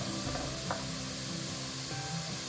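Vegetables sizzling steadily in a pot while chicken noodle soup cooks, a close, continuous frying hiss with faint stirring clinks.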